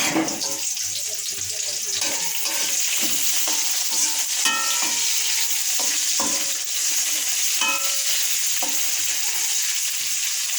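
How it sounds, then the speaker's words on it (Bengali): Oil with onion, garlic and chili sizzles steadily in a pan, a continuous close frying hiss with occasional stirring clinks and scrapes throughout. "আগে তেল পেঁয়াজ রসুন মরিচ সব একসাথে আগে দিয়ে দিচ্ছি সেটা ভেজে নেব"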